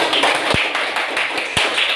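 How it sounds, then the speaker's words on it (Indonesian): A class of children clapping hands together in a classroom, a dense patter of small claps with a few sharper, louder slaps standing out, steady and fairly near throughout. "Tepuk tangan."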